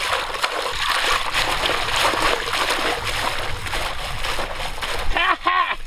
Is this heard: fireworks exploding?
no